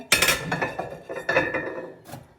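Expensive beaded porcelain tableware clinks and chinks as it is handled, with several sharp, close knocks of china against china that fade out at the end.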